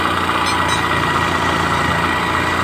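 A Bajaj Platina 110 motorcycle engine runs steadily up close, a dense, continuous mechanical hum and rattle with no clear climb in pitch across the stretch.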